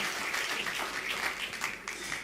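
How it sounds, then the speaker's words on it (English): An audience applauds, a soft wash of clapping that carries on steadily throughout. "Can we have a big round of applause for the host tonight once again?"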